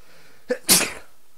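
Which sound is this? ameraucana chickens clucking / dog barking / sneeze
sneeze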